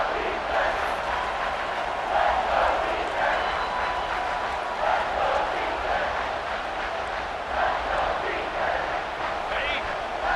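Stadium crowd roar in the College Football 26 video game, as Missouri State plays at #2 Oregon, rising as the home fans push the defense for a red zone stop, a steady loud wash of cheering under a commentator's voice.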